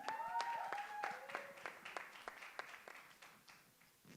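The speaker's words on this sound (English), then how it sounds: "can we have a round of applause once again for our dear friends?" Scattered applause from an audience at a film cast press event, a ragged run of separate claps that thins and fades over a few seconds, with faint voices underneath.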